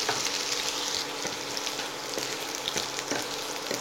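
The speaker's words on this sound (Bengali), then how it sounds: "পেঁয়াজ দেওয়ার পর আমি পেঁয়াজ, আদা আর রসুনটাকে 1 মিনিট ফ্রাই করে নেব।" Onion, ginger and garlic frying in a pan for egg chowmein, a steady close hiss and crackle of sizzling oil with faint stirring scrapes throughout, no voices.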